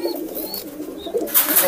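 Several high-flying pigeons coo in a low, soft murmur that runs throughout, close by, with a brighter rustle or flutter near the end and no talk.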